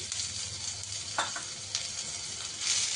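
Ginger and green chili paste fry in a pan with a steady bright sizzle, punctuated by a few short scraping stirs, close and even with no voices.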